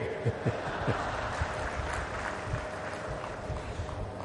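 Audience applause at a speech by PM Modi at a semiconductor plant event in Sanand, Ahmedabad: a crowd claps in scattered, fairly faint bursts at a moderate distance, with a few louder individual claps standing out.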